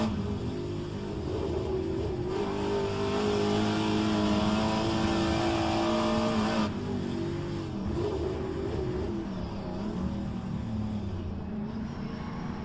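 Pontiac Trans-Am race car in rFactor 2's HRSC Trans-Am series, its engine droning steadily and loudly throughout with shifting revs and no talk over it.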